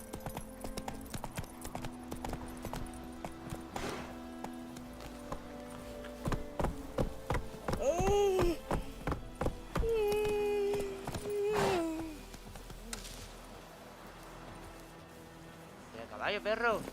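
Roach, the horse in The Witcher 3, clip-clopping along in game, steady hoofbeats with a couple of whinny-like cries midway, a voice talking over parts of it.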